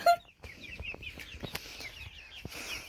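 Young hens cluck in a backyard coop, a steady run of soft, close clucks and murmurs with a few sharper calls over a quiet farmyard background.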